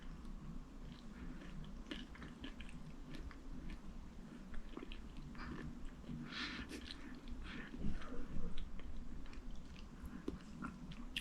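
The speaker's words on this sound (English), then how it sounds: "All the chewing is because of the walnuts" Close, soft chewing of a sugar-free banana and walnut bake, a continuous moist mastication with small crunchy bits, quiet and steady with no talking.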